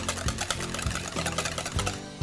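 A whisk beating eggs into pumpkin spice pancake batter in a bowl, heard as fast, close, rhythmic clicking and sloshing strokes with steady repeated pulses.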